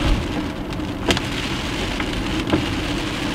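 Heavy rain drums steadily on a car while driving, a dense close wash with a couple of brief louder splashes, no talking.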